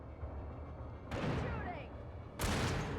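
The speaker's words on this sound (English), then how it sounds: "Shooting." Gunfire in Alan Wake Remastered: two loud broadband bursts of shooting break over a steady game background, the first trailing into a ringing tail, the second arriving near the end.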